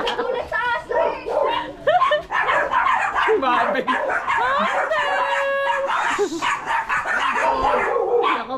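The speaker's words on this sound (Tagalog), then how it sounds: "Ulit sa aso eh." A dog barks, yips and whimpers in a lively run of short, repeated calls, close and loud, with people talking and exclaiming over and between the barks.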